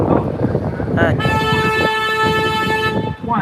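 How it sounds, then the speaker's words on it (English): Horn of a river cruise boat on the San Antonio River Walk sounding one long steady honk of about a second and a half, loud and close, preceded and followed by someone talking. "I'm going to honk the horn at the count of 3."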